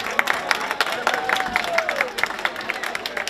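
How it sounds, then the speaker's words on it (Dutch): Steady applause from a small crowd at a carnival playback show, a patter of many hands clapping continuously, with a faint voice briefly audible underneath. "Dus groot applaus."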